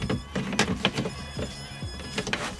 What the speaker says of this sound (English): every now and again the tape gets stuck and it makes that noise